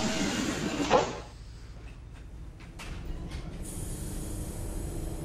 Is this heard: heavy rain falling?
no